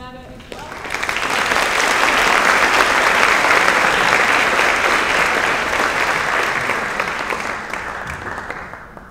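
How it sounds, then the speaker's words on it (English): An audience claps steadily for several seconds, the applause swelling quickly, holding strong, then tapering off. "So a round of applause for Loretta as well."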